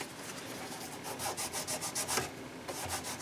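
Fine 3000-grit sandpaper rubs across a plastic Camaro IROC-Z console in a run of soft, quick back-and-forth strokes, close up and fairly quiet, with no talking.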